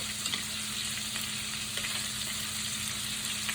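Italian meatballs browning in hot oil in a frying pan over medium-low heat, giving a steady, dense sizzle with faint crackles and occasional stirring scrapes, close and continuous with no talking.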